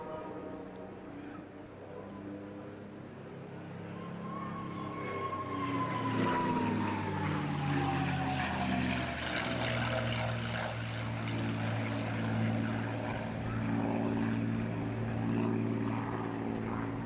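A propeller warbird makes a flying pass at the Eastbourne airshow, its engine drone swelling from distant to loud and sustained, with a falling pitch sweep as it passes overhead and crowd ambience underneath.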